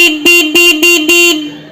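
A standard factory-fitted car horn, the stock company horn on the vehicle, honks four loud, close, evenly spaced blasts in a steady rhythm, with a brief fade after the last one.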